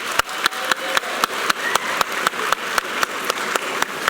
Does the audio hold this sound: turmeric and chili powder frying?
no